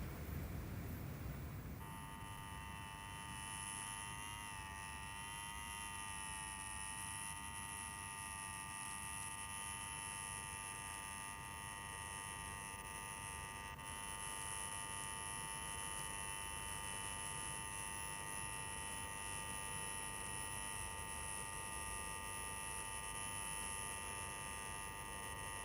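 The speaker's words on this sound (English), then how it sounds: "Take your finger off that bleeding buzzer." A buzzer held down in one unbroken, steady electronic drone that starts about two seconds in and runs unchanged for more than twenty seconds, loud and alone with no speech.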